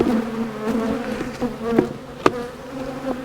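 Honeybees hum around an open beehive frame, a close, wavering drone with individual bees buzzing past and a few sharp knocks from the frame being handled.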